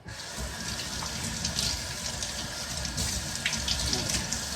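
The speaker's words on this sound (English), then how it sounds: "gonna wash my celery real quick" Tap water runs steadily from a kitchen faucet into a sink while celery is washed, a continuous moderate splashing stream close by with no talking.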